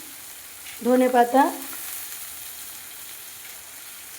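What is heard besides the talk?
chopped tomatoes added to sizzling fish oil in a pan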